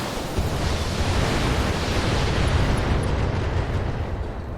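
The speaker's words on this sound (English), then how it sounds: "Firing all weapons." Mech weapons discharging in the BattleTech Extended Commander Edition game, a dense roaring barrage of blasts that holds steady and loud for several seconds with no talk over it.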